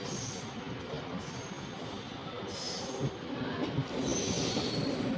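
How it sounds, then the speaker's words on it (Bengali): A hydrogen train pulls into Sonipat Junction station, with a continuous rumble of wheels on rails and faint high squeals drifting in and out, moderately distant. "পৌঁছে গেলাম এসে আমরা সোনিপত জাংশন স্টেশনে"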